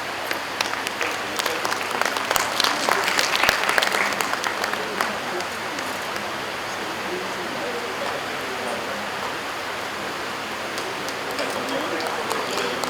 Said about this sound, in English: These applause should continue.